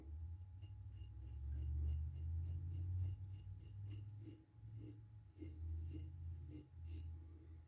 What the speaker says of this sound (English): And then we get to shaving off the, the root beer float foam.